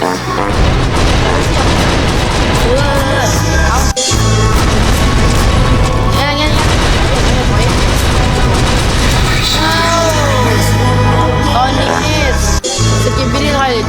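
Loud explosions in Garry's Mod boom and crash among layered synthetic effects and music, with brief sharp bursts and a few sudden drops to near silence.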